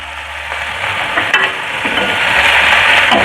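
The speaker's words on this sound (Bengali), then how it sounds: "পেঁয়াজটা একটু ভাজা হয়ে যাক" Onion sizzling in a pan after rohu fish has been fried, a steady loud hiss that builds slightly over the few seconds, with faint scraping and a brief clink midway.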